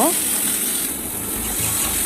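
Banana and potato pieces fry in hot oil tempered with cumin, giving a dense, loud sizzle throughout, with a brief voice at the start.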